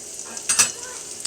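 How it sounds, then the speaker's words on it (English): Onions and spinach sizzling in leftover peanut oil in a pan, a soft close frying hiss with a brief louder burst of sizzle and a light clink in the middle. "get that good sizzle pan fry going on."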